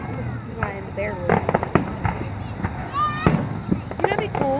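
Repeated sharp cracks and booms of fireworks at a 2017 river fest burst at irregular intervals, some followed by whistling rises. Nearby people keep talking over the display.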